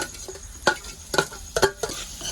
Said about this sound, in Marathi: तर आता आपण वेली टाकूया आतमध्ये अशा प्रकारे